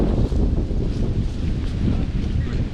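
Strong wind gusts buffet an exposed forest hilltop overlook, a loud low roaring rush that blows against the microphone throughout.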